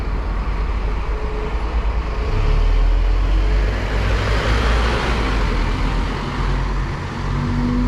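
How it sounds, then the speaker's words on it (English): A number 7 bus pulls away from Kirkcaldy toward Dunfermline: a steady, loud diesel engine rumble with road noise that swells briefly midway, then continues at a constant level. "There goes our bus, number 7, heading off to Dunfermline from Kirkcaldy"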